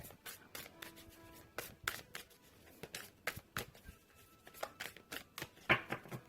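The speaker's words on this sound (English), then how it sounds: "I'm going to shuffle on the Romance Angels" Tarot or oracle cards, a new Romance Angels deck, being shuffled by hand: a steady run of crisp riffling slaps and soft rubbing swishes, close and moderately loud, with no talking.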